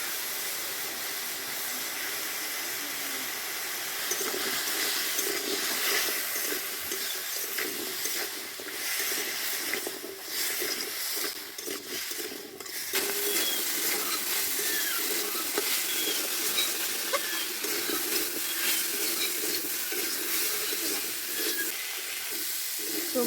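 Vegetables fry with turmeric and a little salt in a pan, a continuous hissing sizzle that swells and dips, with occasional faint stirring, heard close and without speech.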